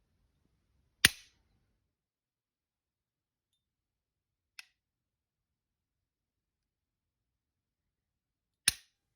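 Three sharp, isolated clicks from dry-firing the trigger of a Smith & Wesson SW9VE Sigma pistol, widely spaced with silence between them, the middle one fainter.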